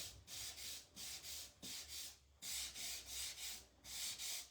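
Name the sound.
scuffing painted wood of a garden sign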